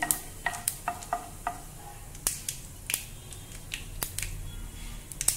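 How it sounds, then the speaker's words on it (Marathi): Mustard seeds and cumin sizzle and pop in hot oil in a pan, a steady low frying hiss with many sharp crackles and pops scattered throughout, close-up and alone. "तेल गरम झाले, आता आपण त्याच्यामध्ये मोहरी घालूया आणि त्याच्यामध्ये जिरं घालू।"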